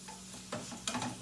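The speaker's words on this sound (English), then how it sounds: "I just want my onion to get sauteed up really good." Sautéed onions sizzle softly in a pan, a faint steady frying hiss broken by two brief stirring scrapes.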